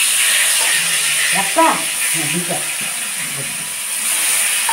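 Foli fish frying in a pan gives a steady, bright sizzling hiss that runs throughout, while a person talks briefly over it.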